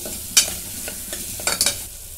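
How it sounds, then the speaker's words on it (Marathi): Masala paste being sautéed in a pan for a potato and green pea curry, heard as soft scraping stirs and several sharp spoon clinks against the pan over a low background sizzle, with no talking. "आता हे जरा परतून घेते"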